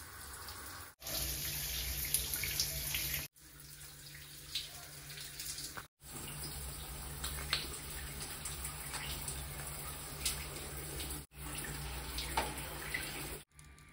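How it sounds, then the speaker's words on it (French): A running shower sprays as a steady hiss of water, cut by a few brief gaps, close and fairly faint with no talking. "Je vais aller prendre ma douche rapidement avant de passer en cuisine."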